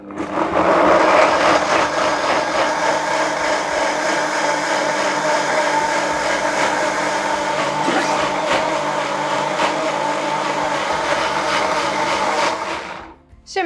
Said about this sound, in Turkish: Bunun için onları blenderıma aldım.